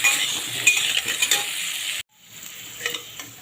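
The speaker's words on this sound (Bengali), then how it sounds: "এবার আলুগুলোকে আমি খুব ভালো করে রং ধরে প্রথমে ভেজে নেব।" Potato pieces seasoned with turmeric and salt sizzle loudly in a hot pan of oil while being stirred for a mutton curry. The frying cuts off abruptly partway through, then resumes as a softer hiss.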